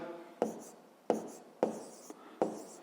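A math calculation is written out by hand as four separate bursts of pen or chalk strokes scratching on the writing surface, close and fairly quiet, with brief pauses between them.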